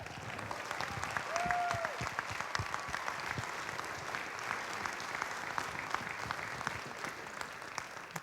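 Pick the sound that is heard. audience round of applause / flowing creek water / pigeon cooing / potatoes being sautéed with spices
audience round of applause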